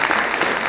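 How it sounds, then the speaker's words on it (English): An audience at a World Trade Center Kentucky event claps in a dense, continuous burst of applause, close and fairly loud, lasting under a second. "Give them a round of applause"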